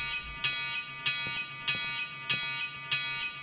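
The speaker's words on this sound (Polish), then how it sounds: "Nic nie słychać przez ten alarm." A fire alarm in the video game Escape from Tarkov rings in steady repeating pulses, about five even bursts, loud and close, with no talking over it.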